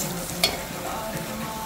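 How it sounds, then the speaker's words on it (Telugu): Garlic frying in hot tempering oil, a steady close sizzle with one brief stir or clink of the utensil partway through. "పచ్చివాసన వస్తుంటే వెల్లుల్లిపాయలు బాగా వేగాలి"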